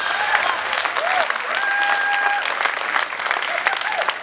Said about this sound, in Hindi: आप बहुत अच्छी तालियां बजा रहे हैं भाई साहब